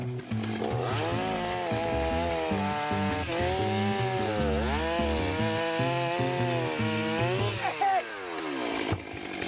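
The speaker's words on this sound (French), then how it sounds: "C'est une tronçonneuse de série." A production chainsaw roars continuously close by at a competition woodcutting event, its engine pitch rising and dipping as it bites through wood, loud and unbroken throughout.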